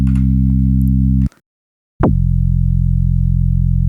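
An additive sine synth in Strudel plays a steady tone that cuts off, then returns with a quick downward pitch sweep settling into a sustained lower tone, loud and alone.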